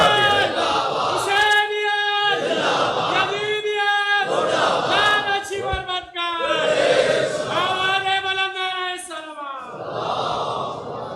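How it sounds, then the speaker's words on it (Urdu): A large crowd at a religious majlis loudly chanting salawat in unison, several long sustained call-and-response phrases with brief pauses between them, a powerful massed voice filling the hall. "جتنی زور سے انہوں نے نعرے کا صلوات کا کہا ہے، اتنا تو اونچا پڑے نا صلوات"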